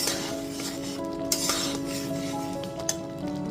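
Spice mix that was fried beforehand being stirred into raw mango for a sweet-sour-hot pickle, with soft steady spoon scraping and a few sharp clinks of metal against the bowl, close and alone.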